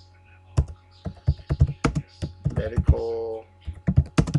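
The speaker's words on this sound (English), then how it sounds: "let's go ahead and type in University" Keystrokes on a computer keyboard entering a word into a form, close and crisp in short clusters, interleaved with a person talking.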